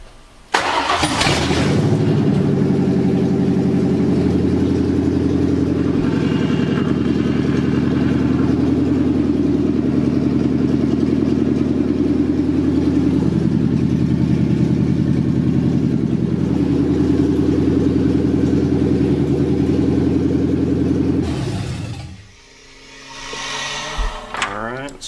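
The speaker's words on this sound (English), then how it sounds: "we're gonna start it up so we can run the pump" A 1996-2004 Ford Mustang engine starts and runs steadily at idle to circulate the power steering pump, loud and close with a continuous low rumble for about twenty seconds before shutting off.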